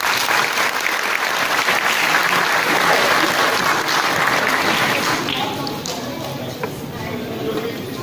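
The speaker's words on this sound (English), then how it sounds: "Another large round of applause," A large audience at Tiecon Chandigarh 2020 applauds to welcome the robot Sophia with dense, loud, sustained clapping that eases slightly toward the end.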